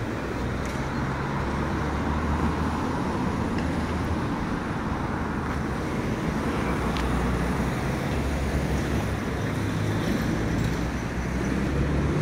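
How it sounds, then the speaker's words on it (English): Steady, continuous road traffic noise in Renfrew, Glasgow, a dense low rumble of passing cars and vehicles holding at an even level throughout with no talk. "it's got lots of traffic, but unfortunately everywhere these days has traffic"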